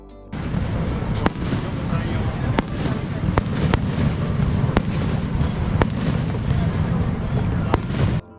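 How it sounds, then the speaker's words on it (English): Fireworks bursting over Niagara Falls at night, sharp booms and cracks at irregular intervals over a constant roar of rushing water and crowd noise. "We capped off the night with fireworks over the falls"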